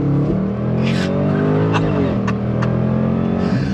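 A Jaguar F-Pace SVR accelerating at full throttle, its engine roaring loud and close with rising tones and brief tire chirps, no one talking over it.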